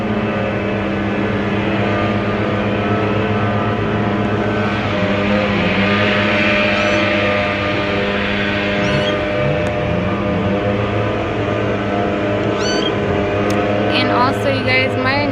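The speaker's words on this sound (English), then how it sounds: "The leaf blower is ruining my video." A leaf blower drones steadily outdoors with a dense harmonic whine, loud and continuous throughout, with faint chirps and other background sounds over it.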